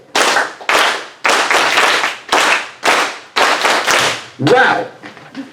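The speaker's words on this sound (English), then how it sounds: "we're going to clap that rhythm" A group of audience members claps a counted rhythm in unison, loud, sharp ensemble claps in an uneven pattern of about eight strokes, each ringing briefly into the room, ending with a short burst of laughter and murmuring.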